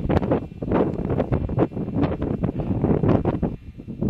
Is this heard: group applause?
no